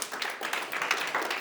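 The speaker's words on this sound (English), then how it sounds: "Round of applause for the team." Brief, moderately faint clapping from a small group at a business conference, greeting a team called up to the front, with a fairly even patter of hands.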